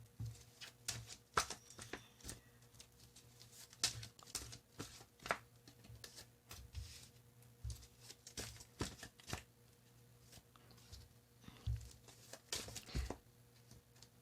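Tarot cards being shuffled by hand, with repeated short riffling bursts and soft card slaps spread across the stretch, fairly close and quiet, with no talking over them.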